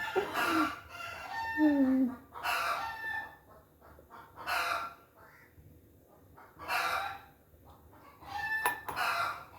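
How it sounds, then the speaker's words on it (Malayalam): Hens cluck and squawk in scattered bursts, fairly close, with quieter pauses between the outbursts. "നമ്മുടെ കോഴികളെല്ലാം കരയുന്ന സൗണ്ട് വീഡിയോയിൽ കേൾക്കുന്നുണ്ടല്ലോ"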